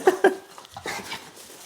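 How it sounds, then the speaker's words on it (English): Moki, a pet dog, gives a couple of short high whimpers followed by soft whining and breathing, close and quiet. "It's my brother's dog."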